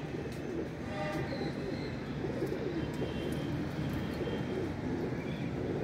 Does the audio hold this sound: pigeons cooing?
yes